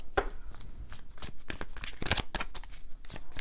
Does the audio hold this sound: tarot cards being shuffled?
yes